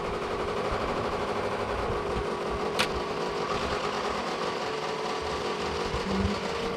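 An embroidery machine stitches a hat design with a fast, steady mechanical chatter and hum that runs continuously at moderate volume, with one brief sharp click partway through.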